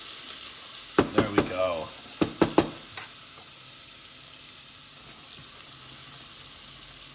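Ginger sizzling in oil on a stove over medium heat, a steady broadband hiss throughout, broken early by a few knocks and clatters of stirring, with a voice briefly speaking.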